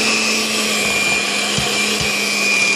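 An electric mixer set on low whirs steadily through cake batter with flour and milk, a close, even motorized hum with faint bumps of the beaters against the bowl.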